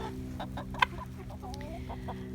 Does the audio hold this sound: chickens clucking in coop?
yes